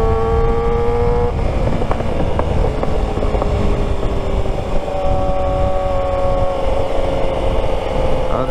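A superbike ridden through evening traffic in Dubai, its engine droning steadily with a cluster of sharp exhaust pops and crackles, loud and close throughout.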